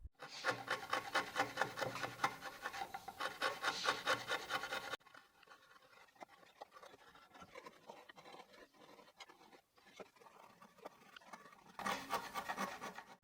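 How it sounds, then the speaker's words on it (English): A 1/2-inch chisel pares and scrapes wood in close, steady rasping strokes, loud at the start, quieter scratchy work through the middle, then vigorous rubbing again at the end. "I'll now use a 1/2-inch chisel to clean up the area."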